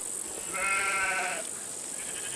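Sheep and goats grazing together in Central Asia, with one drawn-out, wavering bleat rising over a quiet outdoor hiss and a fainter second call near the end.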